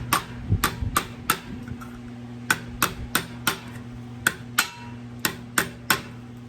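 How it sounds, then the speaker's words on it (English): Hammer blows fold and cinch down sheet metal on an old water can, about a dozen sharp metallic strikes at uneven intervals, close and fairly loud over a steady low hum. "I'll just use straight on hammer blows to cinch this down."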